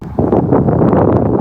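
Strong wind buffeting a phone microphone outdoors on a dog walk, a loud continuous rumbling roar with no speech.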